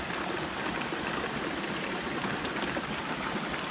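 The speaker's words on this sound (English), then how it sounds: "so we'll empty that into the tank" Collected rainwater emptied from a makeshift catcher into a sailboat's water tank, a steady rushing pour that runs evenly throughout with no talk.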